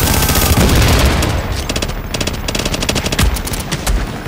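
Automatic gunfire in the video game The Division: loud, dense rapid-fire bursts that rattle on almost without pause, close and dominant with no talk over them.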